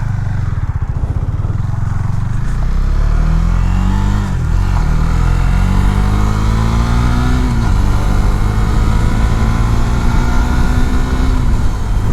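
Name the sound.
2019 Husqvarna Svartpilen 401 motorcycle accelerating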